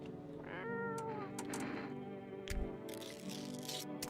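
A cat in a video game meows several times in quick succession, each meow short and clear, over a quiet game soundtrack with a few clicks and rustles.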